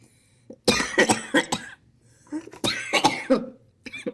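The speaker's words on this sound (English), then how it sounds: "I just coughed" Two bursts of harsh coughing, several coughs in each fit, loud and close, separated by a brief pause.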